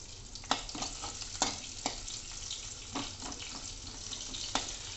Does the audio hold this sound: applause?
no